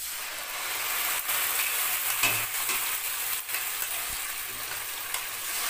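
Spices frying with onions in a pan for a mutton curry, a steady close sizzle with a few brief stirring scrapes and clicks, no voices.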